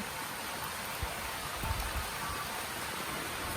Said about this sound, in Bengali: আমি ঘুম থেকে উঠেই দেখছি যে বৃষ্টি পড়ছে